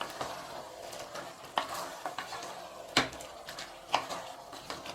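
Chicken pieces with onion and yogurt being stirred in a pressure cooker, with soft scraping and a few sharp clinks of a spoon against the metal pot over a quiet background sizzle, fairly faint and without talk.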